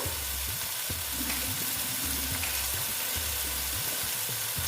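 Cumin powder dropped into oil in a frying pan for a vegetarian potol dish, giving a loud, steady, close sizzle with a soft stirring scrape and no talk.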